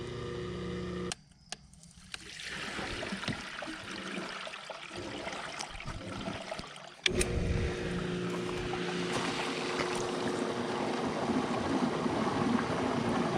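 A newly installed hot tub pump runs steadily, a continuous whooshing water-circulation drone that cuts out briefly early on, then resumes louder and holds steady, close by with no talking.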